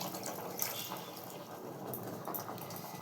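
Water used for grinding spices on a stone slab trickles into a food mixture, a faint, soft, continuous pour with light splashing, close by and without talking.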